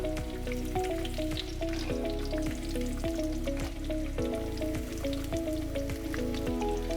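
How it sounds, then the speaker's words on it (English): Vegetables fry in a tablespoon of olive oil in two skillets, giving a dense, steady sizzle with crackling pops and a repeating rhythmic tapping over a low ongoing hum. "I have a tablespoon of olive oil in each one. I'm going to start cooking the vegetables."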